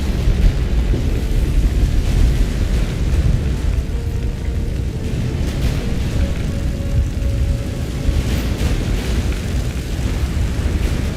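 Earthquake rumble in the video game The Witcher 3, a loud, continuous low roar with a crackling, rushing texture that holds steady throughout without pause.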